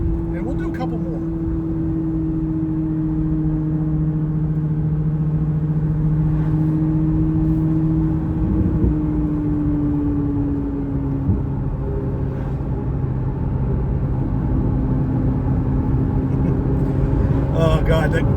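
C8 Corvette E-Ray pulling hard in second gear to 8,600 RPM: a loud, sustained engine drone with strong steady harmonics, heard from inside the cabin, dipping briefly midway before carrying on.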